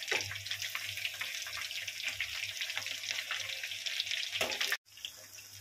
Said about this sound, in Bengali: এখন তেল গরম হয়ে গেছে। চিকেনগুলো আমি একে একে দিয়ে দিচ্ছি।